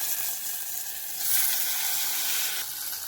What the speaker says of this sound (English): Cook the tomatoes on a low to medium heat setting again for another 2 to 3 minutes, stirring occasionally.